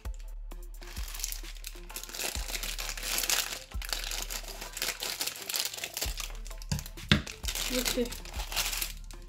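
Crinkling plastic packaging around an anti-stress ball rustles and crackles continuously up close, with sharp crunches and tearing moments mixed in while someone speaks briefly.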